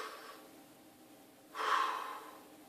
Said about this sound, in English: Taking a nice deep breath with me.